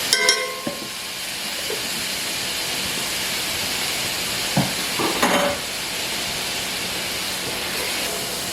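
Garlic and onions sizzle in a hot pan for baked beans, a steady close hiss with a few clinks and stirring scrapes scattered through.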